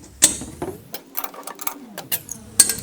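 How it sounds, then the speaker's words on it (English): A mounting bolt on a weather station pole being tightened with a spanner, a few close metallic clicks and scraping ratchet-like turns over a couple of seconds. "So just grab a spanner and then just tighten it up a bit more so it's nice and rigid."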